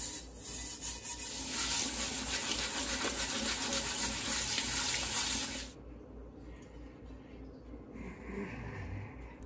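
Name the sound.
scrubbing rust off a vintage cast iron waffle iron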